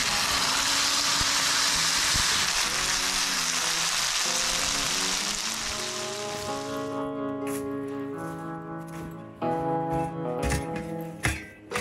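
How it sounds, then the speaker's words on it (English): Italian sausages frying in a pan at a winter campsite, a loud steady sizzle filling the first half and then easing into quieter crackle beneath tonal clatter and light background sounds. "we needed to get those sausages cooked"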